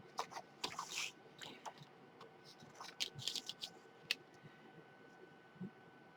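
Scissors snip through paper while cutting out printed holiday images, giving quiet, irregular clusters of crisp clicks and rustles close by, with brief pauses between cuts.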